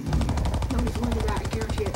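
Rapid automatic gunfire in the video game Fortnite, a fast steady stream of shots for two seconds with a voice talking faintly underneath.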